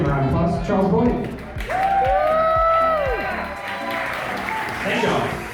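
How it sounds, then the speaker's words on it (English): Convention crowd applauding and cheering at a Star Wars: The Old Republic cantina event in New York, a steady wash of clapping that swells and fades, with a voice and some whistling tones over it. "please give a round of applause, Charles Boyd."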